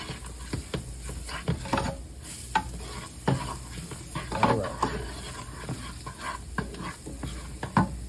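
Food sizzles and fries in a pan while it is stirred, for a cheese-filled meatball pasta dish, with irregular scraping stir strokes over a steady close sizzle and no talking.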